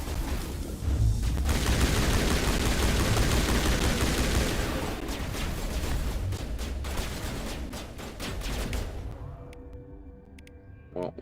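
Sustained heavy gunfire in a Mass Effect lab battle, dense rapid bursts of automatic weapons loud and continuous for most of the stretch, thinning toward the end with a few scattered shots.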